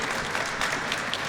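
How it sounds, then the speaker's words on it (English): Brief applause from the audience at a crime victim compensation press conference, honoring the speakers; a steady, moderately distant wash of clapping with no voices. "please give a round of applause for all the speakers who joined us here"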